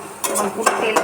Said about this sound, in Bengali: তেল বেরিয়ে আসছে, দেখো যখন পুরো তেলটা বেরিয়ে আসবে তখন এটা ভাজা ভাজা হয়ে যাবে